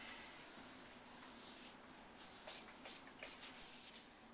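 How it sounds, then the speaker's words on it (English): A microfiber towel buffs sealer residue off a granite countertop, giving a soft, continuous rubbing swish that is faint and steady, with slightly louder strokes toward the end and no voices. "Now we finished buffing off number 4 with the microfiber towel."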